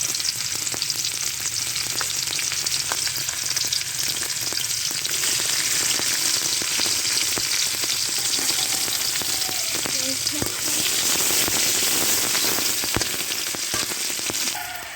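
Onion, garlic and dried chillies frying in hot oil in a pan, a loud, steady crackling sizzle with frequent sharp pops and stirring scrapes, close by.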